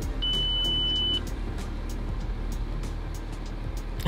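A single steady electronic beep tone of about a second rises over the low rumble of a car interior, followed by continuous engine and road noise.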